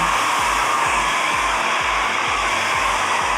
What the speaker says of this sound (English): You want to keep the dryer pointing down.